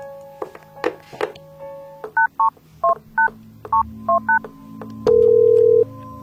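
A telephone number is dialed, producing a quick series of clear two-tone DTMF beeps after some clicks and handling knocks, then ending in a longer steady tone, close and loud with no speech.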